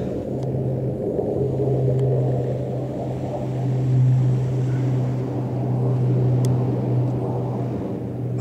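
A continuous low rumble with a steady droning tone from USAF F-15 fighter jets passing at a distance over Weybourne, Norfolk, holding fairly level throughout with no talking.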